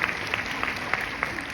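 Brief steady audience applause at a live French comedy show by Les Bodins, a dense wash of clapping with a few sharper claps standing out.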